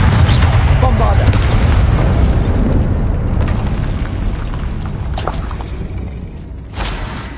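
Spell blasts go off in the Hogwarts Legacy video game, giving repeated booming bursts over a rumbling game soundtrack, with a few sharp impacts near the end.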